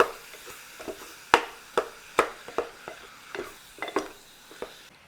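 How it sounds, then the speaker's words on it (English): Hamburger meat browning in a pan for vegetable beef soup, with a utensil scraping and tapping the pan in irregular close knocks over a faint sizzle. "I'm just going to brown up our hamburger."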